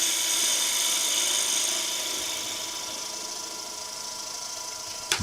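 A woodturning lathe spins steadily through a fine finishing cut, a continuous smooth hiss with a faint whine that eases slightly in level, ending in a brief sharp knock.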